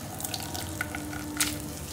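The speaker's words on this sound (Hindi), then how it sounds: "इस तरह से हम ये कद्दू को निचोड़ लेंगे। इसका जो पानी होगा सारा इस तरह से इसको निकाल देंगे हम।" Grated pumpkin squeezed by hand for kaddu barfi, its water dripping and splashing down into a vessel, a soft wet trickle with a few small splashes, fairly close and steady.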